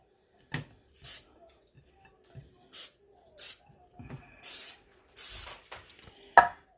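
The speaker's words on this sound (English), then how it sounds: "spray them lightly on both sides with the olive oil cooking spray" Several short, airy spritzes of olive oil cooking spray onto egg rolls, spaced a second or so apart, with faint clatter between bursts.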